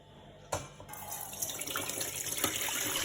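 Whey trickles and drips steadily from homemade curd cheese left to drain. The faint, continuous watery patter is close by, with no talking.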